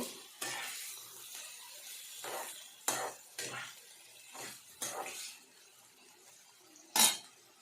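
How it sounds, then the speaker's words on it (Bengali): Tilapia pieces with ginger-garlic paste and salt stirred in a pan for a mustard-oil curry, giving a handful of spaced scraping strokes over a quiet sizzle, with one sharp metallic clink near the end. "নুন দিয়ে দেব আন্দাজ মতো, আর অল্প নেড়ে নেব।"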